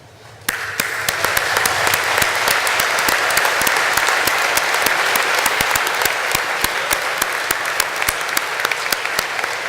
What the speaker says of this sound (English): with a warm round of applause, join me in thanking your family and friends who are here today